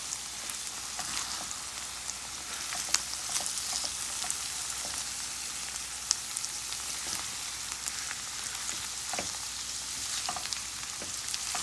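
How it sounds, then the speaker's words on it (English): Sliced bitter melon (karela) frying in a pan for a Guyanese vegetable dish, a steady quiet sizzle with occasional crackles and soft stirring scrapes, no talking. "So our bitter melon or karela is cooking up nicely."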